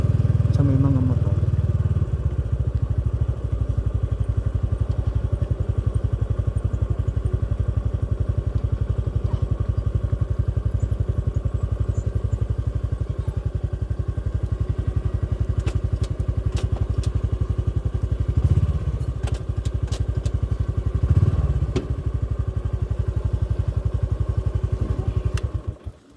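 A Honda XRM 125fi motorcycle engine runs steadily while the bike is being parked, a close, continuous low putter with occasional thumps and clatter, and someone talks over it.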